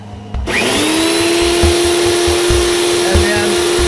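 An electric drill whirs up to a steady high-pitched drone and keeps running loudly and continuously, close by.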